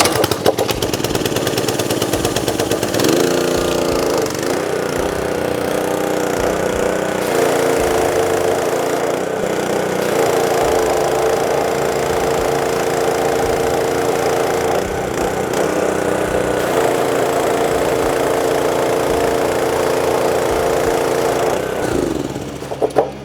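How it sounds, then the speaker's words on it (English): A rebuilt Simpson pressure washer pump runs under test with a pressure gauge fitted to the gun, giving a loud, steady engine drone and pump whine that holds for most of the stretch, with brief shifts in pitch near the start and end. "Pump is working just like it should."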